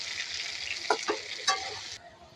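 Potatoes frying in a pan while being cooked village-style for a boal fish curry: a steady, close hiss of sizzling oil with a couple of brief stirring scrapes partway through.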